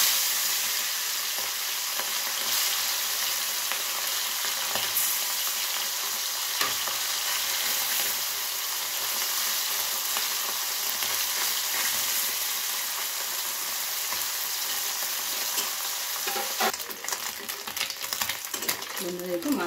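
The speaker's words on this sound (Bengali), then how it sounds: "এখন আমি মাছগুলো ভেজে তুলে নেব।" Morola fish fry in hot oil with a loud, steady crackling sizzle that runs throughout, with a few clattering utensil sounds near the end.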